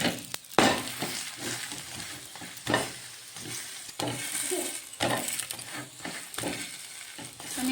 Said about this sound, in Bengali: আস্তে আস্তে জালে লাল লাল করে ভেজে নেব পরোটাটা